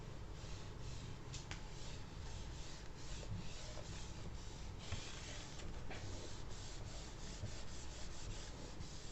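A teacher erases writing from a classroom board, producing continuous scratchy rubbing strokes that run steadily and fairly loud throughout, with no talk.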